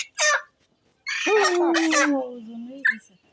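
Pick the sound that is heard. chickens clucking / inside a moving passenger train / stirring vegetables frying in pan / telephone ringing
chickens clucking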